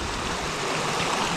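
The hot river in Bosque de la Primavera, Mexico, rushes in a steady, close, broadband wash of flowing water with no voices.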